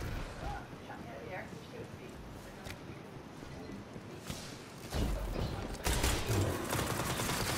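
Rapid bursts of automatic gunfire from the video game Destiny 2 during a Crucible Control match, fairly faint and layered with thumps and clatter, growing louder and denser near the end.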